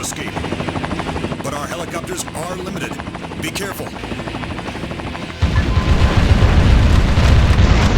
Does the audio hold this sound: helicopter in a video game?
yes